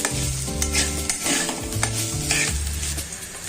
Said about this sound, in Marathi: अशा प्रकारे तांदूळ मी छानपैकी तुपावरून परतवून घेणार आहे